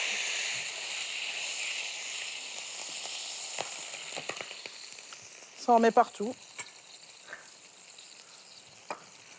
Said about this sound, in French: Donc je déglace un tout petit peu ma casserole.